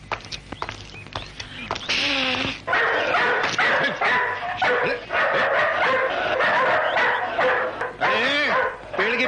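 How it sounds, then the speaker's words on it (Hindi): Dogs barking loudly and repeatedly in a Hindi film scene, with yips and whimpering howls in bursts close by, mixed with people talking. "जरा ये अपने कुत्तों को साइलेंसर लगाओ, इतनी जोर से भोंकते कि घबरा के आदमी का दिल उड़ के मुंह से बाहर आ जावे।"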